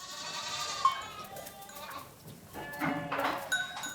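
Goats bleat close by, several overlapping wavering cries rising and falling over a few seconds.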